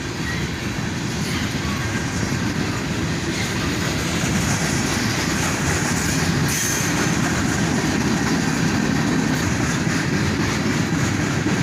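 A freight train with shiny high-top gondolas rolls steadily past close by, a continuous loud rumble of wheels on rail with faint clicking and squeal throughout, no voices.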